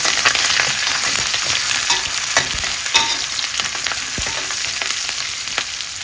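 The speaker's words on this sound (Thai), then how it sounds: "เราก็เอาใบกะเพราที่เหลือเนี่ยไปทอดกรอบเลยค่ะ" Holy basil leaves deep-frying crisp in hot leftover oil, a loud, dense, continuous crackling sizzle heard up close with light stirring noises throughout.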